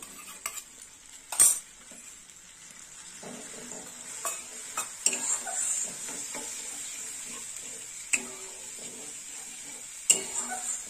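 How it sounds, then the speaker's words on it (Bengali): Yogurt stirred and cooked down in a pan for a dahi potol curry, with soft scraping and faint sizzling under a steady background hiss, plus a few sharper clinks of a spoon against the pan. "এবার একটু দইটা কষে নেব।"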